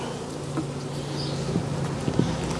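Honeybees cover a honey-filled hive frame during a cutout, their steady, close buzzing droning on with a few faint knocks underneath.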